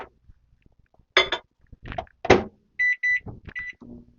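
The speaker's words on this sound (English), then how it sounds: "put it in the microwave to get it done" A microwave oven melting butter for a diabetic-friendly cake gives two short, clear electronic beeps in the middle of the clip. Scattered kitchen clatter and handling sounds come before and after them.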